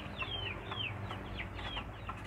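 Hens clucking near a coop, a few soft repeated clucks close by over a low steady background hum, no talk.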